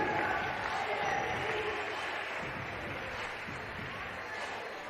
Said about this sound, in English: please give a round of applause for Shibuya and his family.